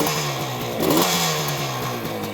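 A stock, original 1973 Yamaha RD350 two-stroke motorcycle idles steadily after a cold start, a close, buzzing engine note with a slight swell in revs partway through.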